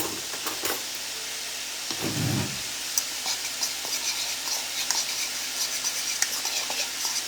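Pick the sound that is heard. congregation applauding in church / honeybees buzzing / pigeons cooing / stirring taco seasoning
stirring taco seasoning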